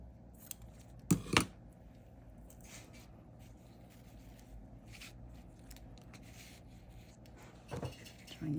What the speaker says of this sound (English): I am going to cut my little ribbon